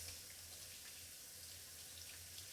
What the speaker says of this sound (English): let's rinse some stuff off.